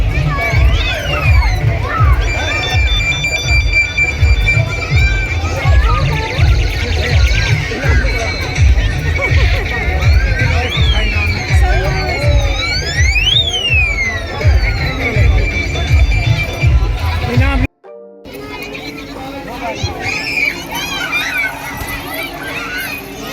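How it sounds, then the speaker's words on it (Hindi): A dense crowd of children mills around the swings at a Diwali fair, making a loud, continuous din of overlapping chatter, shouts and shrill squeals. The noise drops out briefly near the end, then the hubbub picks up again. "और यहाँ झूलों पे बहुत भीड़ थी"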